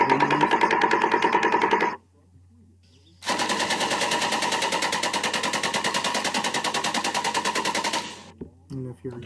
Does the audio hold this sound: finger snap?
no